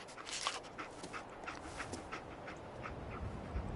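A companion dog in Fallout 4 panting near the listener, quick soft rhythmic breaths with a faint whimper, alone without talk.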